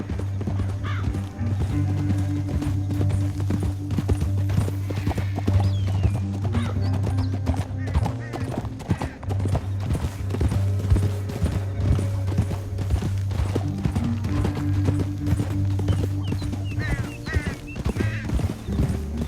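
Horses' hooves pound in a steady galloping rhythm over a droning background in Red Dead Redemption 2, with occasional whinnies and clatter, fairly loud and continuous.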